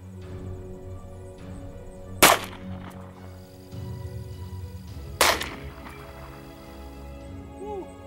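An H&K P2000 pistol fires .40 caliber 180-grain full metal jacket rounds at bulletproof glass: two sharp, loud cracks about three seconds apart, each over quickly, with low background rumble between them.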